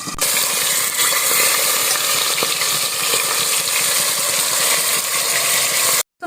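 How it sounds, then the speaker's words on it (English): Fish pieces fry in hot oil with a loud, continuous close-up sizzle and crackle that holds steady, then cuts off briefly near the end. "So fry the fishes this slightly and remove the excess oil."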